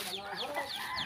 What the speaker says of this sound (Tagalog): Ang mga sisiwa natin oh.